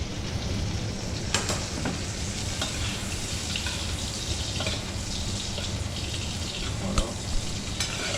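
Beef fillet fries steadily in a pan with a dense, continuous sizzle, close and loud, punctuated by a few sharp crackles, while a voice briefly speaks over it.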